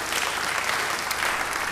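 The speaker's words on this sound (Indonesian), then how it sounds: "Beri tepuk tangan yang baik buat dia." Dense audience applause in a church service, a steady wash of many hands clapping, brief and fairly loud with no voices on top.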